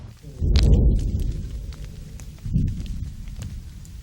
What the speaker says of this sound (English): The rain is starting in earnest